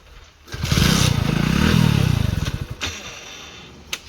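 A village motorbike sputters and cranks into life, a close, rough engine rumble that chugs unevenly for a couple of seconds, pulses, then cuts out, followed by a faint clunk.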